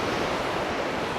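Sea waves break and wash continuously along the beach at Barangay Bongbong, Pantukan, Davao de Oro, a broad steady roar of surf with no voices.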